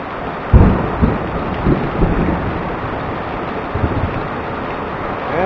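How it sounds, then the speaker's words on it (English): Thunder rumbles through a heavy rainstorm, with a loud boom early on, further softer rolls and steady loud rain throughout. "we just got some big thunder and lightning"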